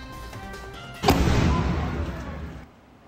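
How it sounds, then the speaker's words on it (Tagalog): A distant explosion-like boom following the Acapulco, Mexico earthquake, a sudden broadband blast that swells and rumbles for over a second before fading, heard alone without talk. "namataan ang tila pagliwanag sa kalangitan na sinundan ng tunog ng pagsabog."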